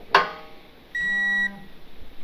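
A digital torque wrench set to 85 foot-pounds on a tire carrier install gives a sharp click, then a steady electronic beep about half a second long, close by with no talk.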